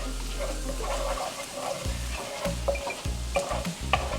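Garlic sizzles in a hot pan for chicken tikka masala, a steady close frying crackle with stirring scrapes and small bursts throughout.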